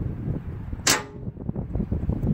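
A snow plow valve magnet grabs with a single sharp, loud clunk-click, standing out briefly over a low, rumbling background hum.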